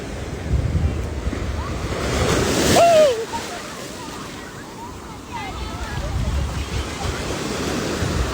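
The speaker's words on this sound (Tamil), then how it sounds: "இந்த கடல் சத்தத்தை கேட்கணும்" Sea waves wash and break on the shore beside a Murugan temple, a continuous roar swelling and easing with wind buffeting the microphone and faint voices in the distance.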